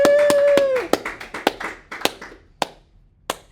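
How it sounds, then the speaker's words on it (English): A small classroom audience gives a brief round of applause. A few people clap in loud, distinct, irregular claps that thin out to single scattered claps, and a whistle-like tone sounds at the start. "Everybody give him a round of applause."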